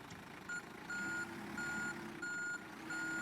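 Reversing beeps from a Volvo B10BLE Renown bus in the OMSI 2 driving simulator, a steady run of evenly spaced electronic tones sounding about every two-thirds of a second over a low engine rumble.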